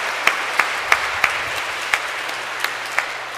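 Applause from a congregation at a Catholic baptism ceremony in a church: steady, moderate clapping with a few sharper individual claps standing out, and no talking over it.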